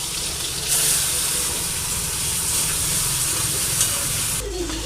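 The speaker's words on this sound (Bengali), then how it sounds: "চিংড়ি মাছগুলো ভেজে নেব" Turmeric-coated shrimp sizzle loudly in hot oil in a pan while being stirred, a dense crackling hiss that runs steadily close up, with no talking over it.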